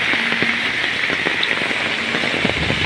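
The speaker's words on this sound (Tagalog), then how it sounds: "Grabe yung ulan dito mga kaibigan" Heavy typhoon rain pours down outdoors, a dense, constant hiss of drops hammering surfaces with scattered louder splats, steady and close with no voices.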